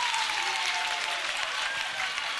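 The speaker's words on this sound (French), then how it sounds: "Applaudissez pour eux encore." Studio audience on a live TV talent show applauding, a thick, continuous wall of clapping at a steady level, with no talk standing out.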